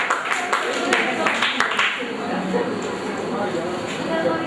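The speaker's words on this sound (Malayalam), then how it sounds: "ഒന്ന് കൈയടിച്ച് നമുക്ക് നമ്മുടെ സന്തോഷം എന്ന് അറിയിക്കുകയും ചെയ്യാം" Audience applause for quiz winners at a Logos Quiz prize event, a dense steady patter of many hands clapping with sharp individual claps near the start, continuing evenly throughout.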